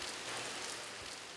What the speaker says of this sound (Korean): 하늘에서 우박이 쏟아집니다